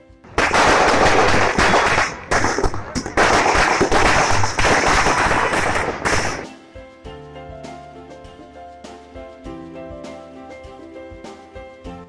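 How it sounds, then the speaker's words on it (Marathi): Firecrackers burst in a loud, dense, rapid volley at a large street celebration in Nashik marking the Shri Ram temple consecration. The crackling runs for about six seconds, then gives way to quieter music. "फटाक्यांची आतषबाजी करून"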